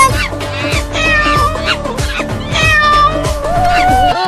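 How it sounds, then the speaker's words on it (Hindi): A mother cat climbing a tree to protect her kitten gives loud, drawn-out, wavering meows close up, repeated several times with other voices mixed in. "बिल्ली है ये, अपने बच्चे को बचाने के लिए पेड़ पर ही चढ़ने लगी।"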